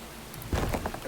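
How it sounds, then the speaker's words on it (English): Steady rain falls in the video game Enshrouded under a sunny sky, a constant soft hiss with heavier patter and a few louder bursts toward the end, while a voice speaks briefly over it. "Raining while the sun is out."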